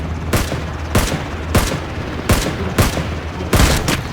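Gunfire booms out in the video game Ring of Elysium, seven loud, sharp shots spaced roughly half a second apart, each ending in a short decaying rumble.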